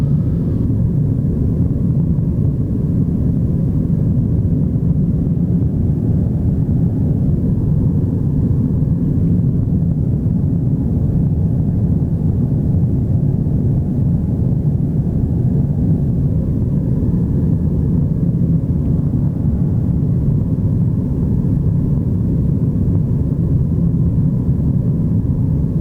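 Steady, droning cabin rumble of a HondaJet light jet on final approach to land, a continuous low engine and airflow noise with no talk over it.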